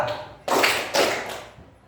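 A classroom of students claps twice in unison on command, two sharp, close, fairly loud bursts about half a second apart, then quiet.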